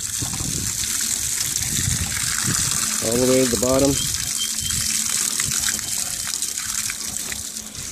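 Hot water poured from a bucket down through the fins of an ice-covered mini-split heat pump outdoor unit, a steady close splashing gush that runs throughout while someone talks over it.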